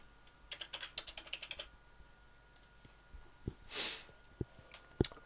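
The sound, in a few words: typing a password on a computer keyboard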